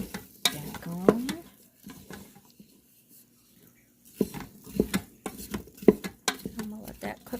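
Elk meat and onions sizzle in a pot while a wooden spoon stirs and scrapes them, with bursts of stirring separated by a quiet stretch. The sounds are close and moderately loud.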